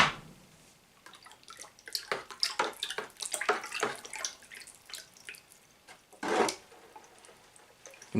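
A ladle stirs a very strong chemical mixture in a pot while it reacts, giving faint fizzing and sloshing with irregular scrapes and splashes, quiet throughout.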